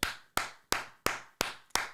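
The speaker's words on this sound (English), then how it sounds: "Clap it up for yourself, man." Six sharp, evenly spaced claps ring out in a steady rhythm, each crisp and close with a quick decay, no voices present.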